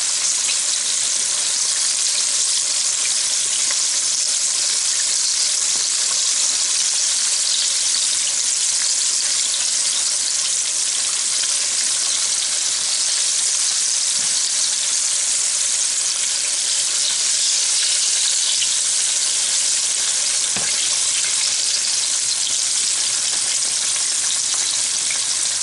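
Chicken drumstick lollipops fry in oil with a loud, dense, continuous sizzle that stays close and even throughout, with faint stirring and no voices.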